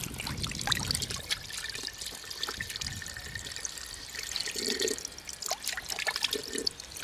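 Water runs steadily from an outdoor standpipe tap in Spain, a continuous close splashing trickle with faint background noise and no speech.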